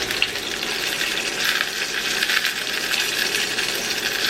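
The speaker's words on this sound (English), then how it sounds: "Don't forget to sear the sides." Steaks searing in a hot pan, a continuous crackling sizzle with dense spitting pops that stays fairly close and even throughout, with no talking.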